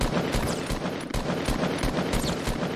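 Rapid bursts of Fortnite gunfire, repeated sharp shots in quick irregular clusters over a dense, busy background.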